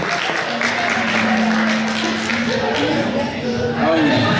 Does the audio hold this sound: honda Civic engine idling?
no